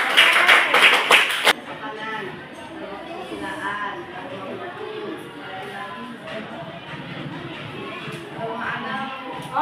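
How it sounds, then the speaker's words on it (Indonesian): A short burst of classroom applause for a student named Frans during a peer-teaching lesson on social norms and institutions, loud for about a second and a half, then fading into low murmuring chatter from the class. "Kasih aplaus dulu untuk Frans."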